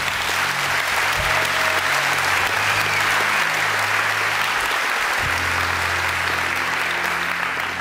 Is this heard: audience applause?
yes